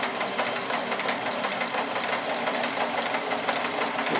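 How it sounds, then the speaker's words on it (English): Kenmore 158.14100 all-metal Sears sewing machine, made in Japan, running a back-and-forth stitch: a steady, fast mechanical whir and clatter, close and even, with no talking. "This is a back and forth stitch."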